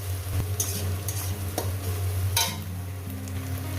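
Small pieces of egg frying in a pan, a steady sizzle with scraping stirs and light clinks of a utensil against the pan, close and continuous.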